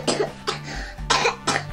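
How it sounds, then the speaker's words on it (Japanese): Four harsh coughs in two quick pairs, close and fairly loud, with a faint hum in the background. "ちょっと咳気味ですね"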